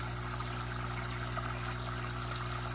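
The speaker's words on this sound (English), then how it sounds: "I gotta let it pump some more water up here from the sump" Water pumped up from a sump trickles steadily into a trickle tower, a faint continuous splashing hiss over a constant low pump hum.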